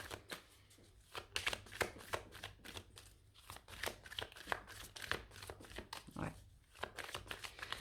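Tarot cards are handled and laid down, giving a close series of crisp flicks, slaps and shuffling rustles in an irregular rhythm.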